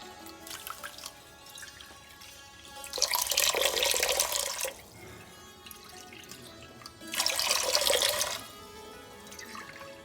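Water runs and splashes into a pot of sugar, with two louder bursts of pouring between quieter trickling; no voices.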